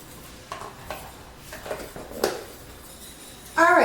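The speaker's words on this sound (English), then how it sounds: "heat that up in a pan with your Bearnaise mixture, and stir constantly until it comes to a boil" Béarnaise mixture heating in a pan for Crab Oscar, stirred with a utensil in a few separate scraping strokes over a quiet background, ending in a louder burst of noise.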